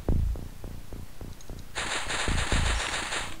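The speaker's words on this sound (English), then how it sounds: "I suspect he just shot me through the wall" Alien weapons fire in the OpenXCOM game as a rapid burst of punchy, evenly spaced shots. A sustained buzzing, throbbing electronic tone follows, loud and close, with no voices.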